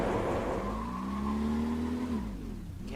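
A mid-1980s right-hand-drive sports car oversteers through a turn, its tires squealing in a rising, sustained howl over a loud engine note that fades as the slide ends.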